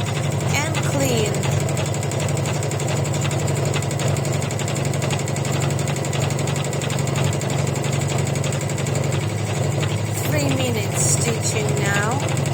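Embroidery machine stitching coil stitches on an in-the-hoop cross bookmark, a steady loud mechanical whir with rapid needle chatter running throughout, with a voice talking over it.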